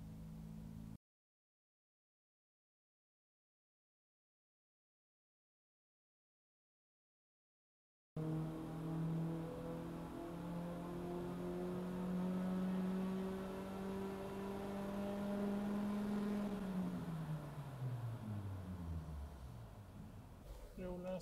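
A Volvo 740 engine fitted with a test camshaft revs up and holds high, its tone climbing and then falling away, a loud close drone after an initial silent gap.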